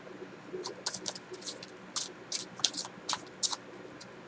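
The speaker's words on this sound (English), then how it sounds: "Now I'm shuffling the cards for you" Tarot cards being shuffled by hand make quiet, crisp riffling clicks and soft patter in quick irregular bursts.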